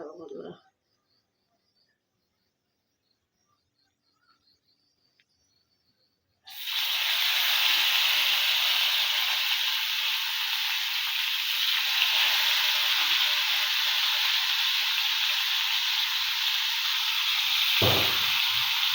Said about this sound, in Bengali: এটা এবারে আমি করাই আস্তে আস্তে একটা একটা করে তেলের মধ্যে ভেজে নেবো